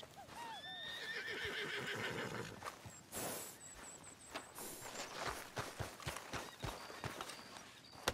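A horse whinnies loudly near the start in the video game Red Dead Redemption 2, followed by steady clip-clopping hooves that continue throughout at a walking pace.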